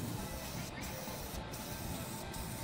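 A spray paint can hisses continuously, a dense, loud, steady spray that fills the whole stretch with no pauses.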